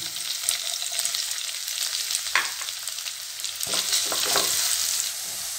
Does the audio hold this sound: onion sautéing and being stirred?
yes